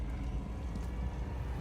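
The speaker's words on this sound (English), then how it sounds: "Sorry about the fan sound" An electric fan runs in a hot room, a faint, even low whooshing rumble with no change in pitch or strength, and no one speaking.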